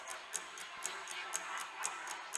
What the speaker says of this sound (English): I can hear a clock on my wall.